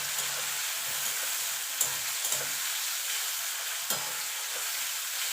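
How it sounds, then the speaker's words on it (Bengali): Prawns frying with onion in a pan, a constant hissing sizzle with occasional clicks of stirring against the pan, steady and moderately loud, no voices. "চিংড়ি মাছটা দিয়ে একটুখানি ভাজা ভাজা করে নেব"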